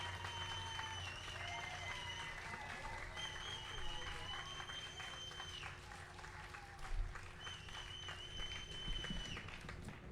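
Audience applause at a memorial art unveiling, a steady wash of clapping from a crowd lasting throughout, with sustained whistles or cheers rising over it and a speaking voice faintly underneath.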